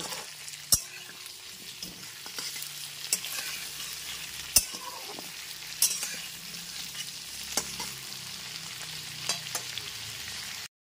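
Potato, pumpkin and pointed gourd fry in a pan over a medium gas flame, a steady crackling sizzle broken by sharp clacks of a spatula stirring at irregular intervals, close and alone with no talk.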